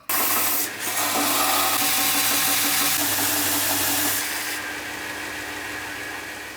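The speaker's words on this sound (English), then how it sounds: "What I'm going to do is go to the belt sander and just tidy this bit up." Belt sander grinding and tidying a hand-forged Kent pattern English axe head in a blacksmith's workshop, a steady loud abrasive rasp with a motor drone that eases slightly partway through, with no talking.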